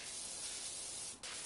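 Steady, loud hiss of a pressure washer spraying in the video game Power Wash Simulator, continuous throughout, with a brief dip just before the end and no talking.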